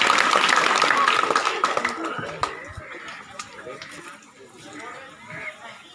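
An audience at a school farewell ceremony for a teacher gives a burst of applause that tapers off over a few seconds, with voices audible beneath it.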